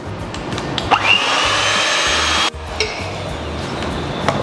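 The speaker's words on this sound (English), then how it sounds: "So now we'll start with whisking 400 grams of condensed milk." An electric whisk runs steadily and loudly as it beats 400 grams of condensed milk, with a brief pause midway before the motor whirs on again.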